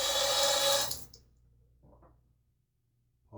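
Water rinsing a razor during a wet shave with a Gillette Rocket HD, a close, full splashing rush that stops abruptly after about a second, followed by faint scattered drips and taps in a quiet room.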